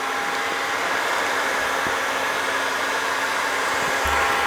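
A heat gun blows a steady, loud, airy roar onto vinyl wrap on a crash helmet, close and unbroken from start to finish, with no talking over it.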